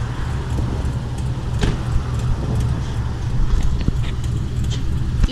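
A 2011 Chevrolet Silverado truck with an ignition fuse that keeps blowing runs at a steady low engine hum, close by, with scattered light clicks and rattles over it.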